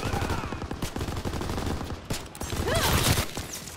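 Rapid gunfire in Call of Duty: WW2 during a tank battle, a quick string of sharp shots at moderate distance followed by a heavier rumbling burst, with no talk over it.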